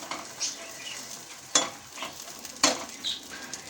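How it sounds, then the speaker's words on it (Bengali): An egg fries in a pan with a quiet, continuous sizzle, broken by a couple of sharp spatula scrapes and clinks against the metal. "ডালের সঙ্গে একটু গরম গরম খাবার সময় ডিম ভেজে নিচ্ছি"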